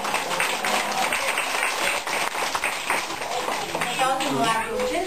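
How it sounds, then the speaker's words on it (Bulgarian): An audience applauds through a children's science demonstration show, steady dense clapping continuing throughout, with a voice audible over it near the end. "Ръкопляскания"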